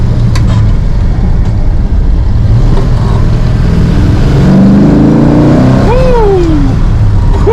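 A 426 Hemi car accelerates hard during a ride-along, its engine note loud and close from inside, pitch sweeping upward through the gears with steady roaring throughout.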